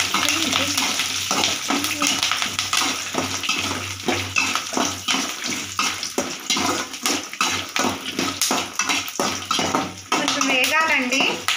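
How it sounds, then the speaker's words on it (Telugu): Peanuts and cashews frying in a pan for coriander rice, a steady close sizzle with repeated scraping strokes of a spoon, under background music and some voice. "జీడిపప్పు కొంచెం వేగితే బాగుంటాయి తినడానికి"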